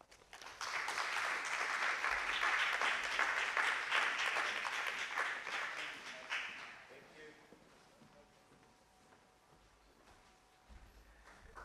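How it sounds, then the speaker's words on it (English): Audience applause after a speech at a Ghana research and industry forum, dense clapping with some talk mixed in for about six seconds before fading to quiet room murmur. "Shall we give him a round of applause?"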